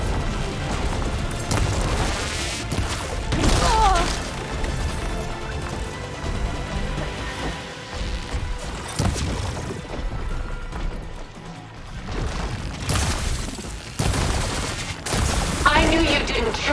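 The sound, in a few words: gunfire in video game Horizon Forbidden West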